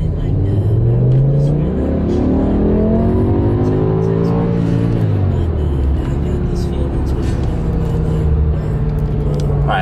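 A car engine pulls through steady acceleration from inside the cabin, its rising drone and low road rumble holding a constant, fairly loud level throughout.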